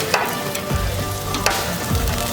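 Chicken sizzling and frying in a pan after being flipped, a steady crackling hiss with scattered pops, close and loud with no voices.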